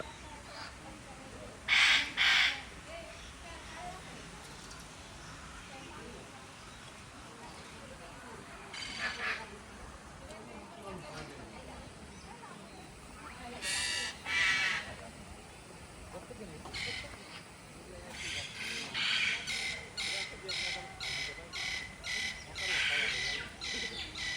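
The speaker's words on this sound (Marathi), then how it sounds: "वेगवेगळ्या प्रकारचे पॅरट्स आहेत" Harsh parrot squawks come in short bursts, some repeated rapidly, over quiet outdoor background with faint talk.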